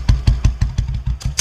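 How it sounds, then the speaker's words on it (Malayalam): A motorcycle engine running close by with a loud, rhythmic low putter of evenly spaced exhaust pulses as the bike is slowed and pulled over, with no talk. "അതുകൊണ്ട് സാർ ബൈക്ക് ഒതുക്ക്."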